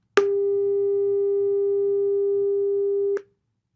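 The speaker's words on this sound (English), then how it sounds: "a sine wave of 400 hertz sounds like this" A pure 400 hertz sine wave tone plays steadily for about three seconds, starting and stopping with small clicks, alone with no other sound.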